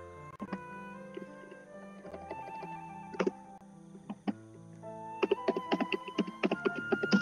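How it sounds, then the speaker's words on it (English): Typing on a computer keyboard during a Roblox game session: clusters of sharp, close key clicks, sparse at first and then a quicker, denser burst of taps toward the end, with no voices. "Just read what I'm typing."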